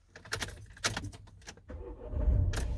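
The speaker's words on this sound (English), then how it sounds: "now we can start the vehicle." Keys jangle near a Renault Trafic van fitted with a Starline S9v2 alarm, then the engine cranks and settles into a low, steady idle, heard close with no talk.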